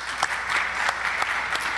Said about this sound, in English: I'm going to give you guys a round of applause